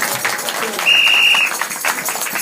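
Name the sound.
church congregation applauding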